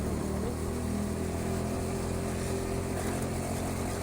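Go-kart engines roar loud and steady on an indoor racing track during a members' session, a continuous buzzing drone with no pauses.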